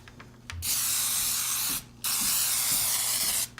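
Two sustained hissing sprays of an aerosol cooking-spray can onto cake batter, each lasting over a second with a short pause between, close and fairly loud.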